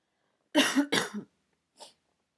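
Two quick close coughs in succession, followed after a short pause by a softer third cough.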